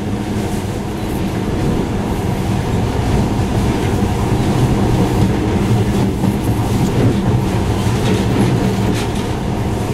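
A monorail train in the game Metro Last Light runs steadily with a constant low rumble and rhythmic clatter of wheels, loud and close for the whole stretch with no pauses.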